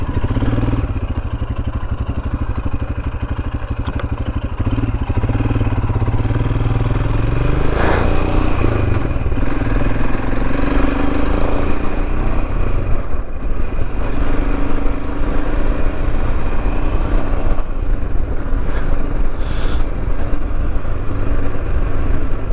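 A Royal Enfield Himalayan motorcycle rides along Cornish country lanes, its engine droning loud and steady up close, with a few clattering knocks and shifts in revs along the way.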